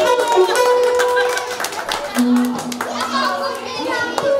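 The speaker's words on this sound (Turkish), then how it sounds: "Alkış." Applause breaks out at a circumcision ceremony in Studenec, with scattered hand claps under a voice speaking over a PA and children's chatter nearby.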